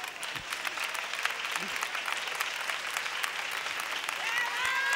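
An audience applauds, a sustained burst of clapping that builds steadily and stays dense from start to finish, with a few voices audible under it.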